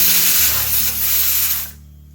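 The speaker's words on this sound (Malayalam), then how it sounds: "നമ്മളെ കുക്കർ ഇങ്ങനെ വിസിലടിഞ്ഞുകൊണ്ടിരിക്കുന്നുണ്ട് കേട്ടോ" A kitchen pressure cooker vents a loud steady hissing whistle of steam close by, cutting off sharply near the end and leaving a faint low hum.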